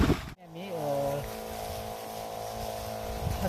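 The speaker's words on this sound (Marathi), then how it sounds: "हा स्प्रे चालू करत आहोत" A spray pump for spraying sugarcane starts after a sharp click, its motor rising into a steady droning hum with a strong tonal whine that holds for a few seconds.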